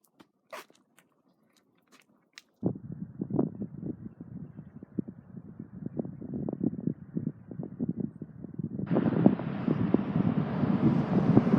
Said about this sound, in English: It's a breezy day today.